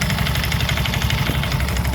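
A motorcycle engine idles steadily just after a push start, a continuous close, loud mechanical chugging with a slightly rough, uneven beat and no talk, on a bike with a drive belt that flaps.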